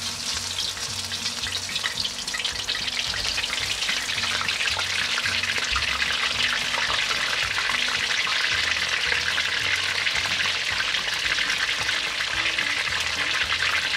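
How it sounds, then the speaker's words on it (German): Cauliflower mushroom pieces deep-frying in a full pan of oil give a steady, loud bubbling sizzle that runs unbroken throughout, with no voices. "jetzt fangen wir an zu frittieren"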